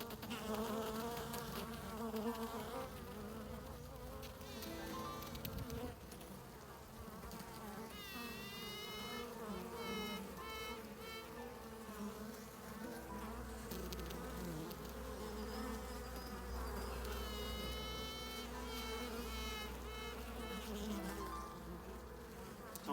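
Honey bees buzz thickly around an open nuc hive, a steady close swarm drone filling the whole stretch with shifting wingbeat tones and no voices.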